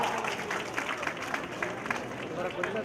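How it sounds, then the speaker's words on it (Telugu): An audience claps together at a public Indira Mahila Shakti women's development meeting in Manthani, a dense, steady wash of many hands with crowd murmur underneath throughout. "అందరి చప్పట్లు కొట్టండి బాగా"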